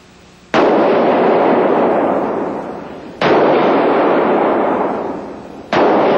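A handgun fired with a steady two-handed grip on a shooting range, three sharp, loud shots spaced a few seconds apart, each ringing out and fading slowly before the next.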